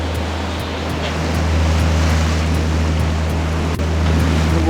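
Gentle rollers on Lake Ontario wash steadily against a moving boat, a continuous rushing water sound under a steady engine drone and wind, with no talking.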